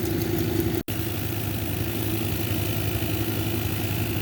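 A lapidary machine runs steadily while shaping a bloodstone cabochon on a dop, a constant low motor hum with a brief sharp dropout near the start.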